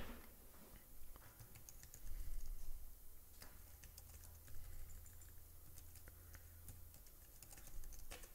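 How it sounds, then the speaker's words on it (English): Keys clatter on a computer keyboard as web addresses for social media accounts are typed in while a church website is set up, a steady run of quiet, close clicks with a few louder bursts and no speech. "simply type in the URL for each one of your accounts"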